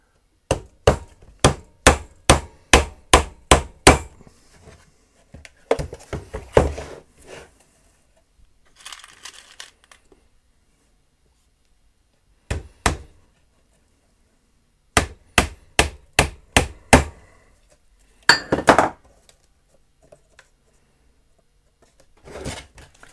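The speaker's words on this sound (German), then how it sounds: "Dann nageln wir noch die letzte Lamelle fest." Hammer blows drive nails into the last wooden slat of a homemade lacewing box, close and loud, in quick rhythmic bursts of about ten strikes, then scattered taps and a second run of sharp strikes later.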